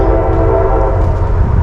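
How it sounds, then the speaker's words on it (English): A train rolls past close by near a campsite along the C&O Canal between Hancock and Williamsport, its horn blaring in a loud, sustained tone over the heavy rumble of the cars. "I believe it's gonna be a noisy spot with that train."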